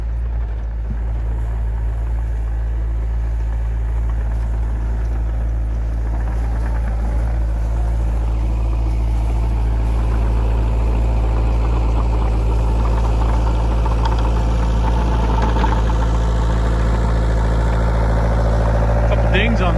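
John Deere D series excavator with its engine idling, a steady low drone that stays constant throughout and swells slightly toward the end, with a person talking over it.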